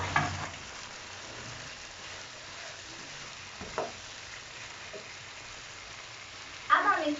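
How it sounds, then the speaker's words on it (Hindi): Egg jalfrazi masala fries quietly in a pan, a soft steady sizzle broken by a couple of brief louder stirring knocks, with no talk. "देखिए ये अच्छे से भून चुका है।"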